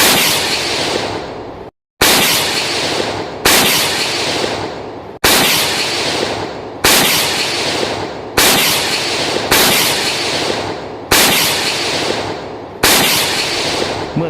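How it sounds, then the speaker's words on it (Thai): Nine loud gunshots fired in rapid succession by a unit leader, each a sharp close blast with a short decaying tail, spaced about one and a half seconds apart, with no talking. "ก็มีเสียงปืนดังขึ้น9 นัดซ้อนจากการยิงของผู้นำหน่วยของฐานพรานนักรบชุดดำ"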